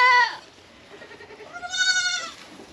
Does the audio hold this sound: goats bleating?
yes